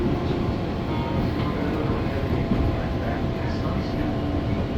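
Commuter train pulling into Tiga Raksa station, a dense, steady rumble and rolling clatter close by with no clear breaks.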